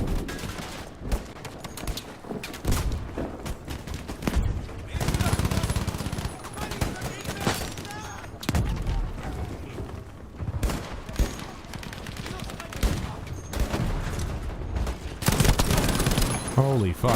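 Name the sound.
gunfire in the video game Battlefield V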